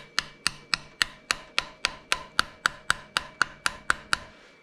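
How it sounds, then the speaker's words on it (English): A screwdriver taps an engine part on a John Deere 317 back into place with fourteen evenly spaced, sharp metallic knocks, close and clear, in a steady rhythm with no talk. "Grab my screwdriver again. I'm just going to gently tap this back in."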